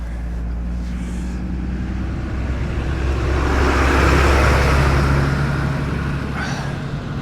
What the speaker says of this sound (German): jetzt kommt was Lastwagen-ähnliches